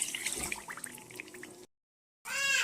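Water splashes and trickles as a cup of it is poured over sugar in a pot for syrup, a short running pour that stops, a moment of silence, then a louder bright burst of liquid.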